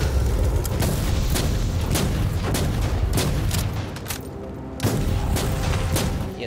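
Sniper rifle shots in the video game Warhammer 40k Inquisitor Martyr, with repeated heavy booming reports and sharp cracks over a continuous loud rumble of battle.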